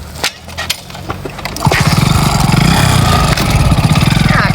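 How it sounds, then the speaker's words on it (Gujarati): A small motorcycle engine is cranked with a few sputtering tries, then catches and runs in a steady, loud idle with a rough, chugging rhythm. "ખાલી વાહન તો બાઈકે ચાલુ થતું નહીં યાર શું કરવાનું"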